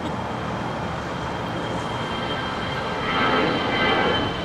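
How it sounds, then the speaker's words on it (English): An Alaska Airlines Airbus A320 jet at LAX produces a steady, broad engine roar that swells slightly louder toward the end. Distant airport traffic blends in, and no voices are heard. "here's an A320 belonging to Alaska Airlines"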